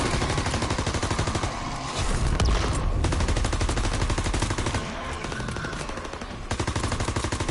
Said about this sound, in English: I'm killing them with the submachine gun.